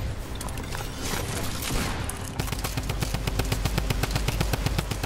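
Rapid Fortnite gunfire erupts in dense, sharp bursts, a fast rattling stream of shots that fills the last half of the stretch after a rougher, noisier opening.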